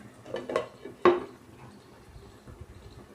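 A lid goes onto a pan of wheat-flour pasta cooking on the stove, giving a couple of close metallic clinks and one sharper clatter, then a quiet low simmer.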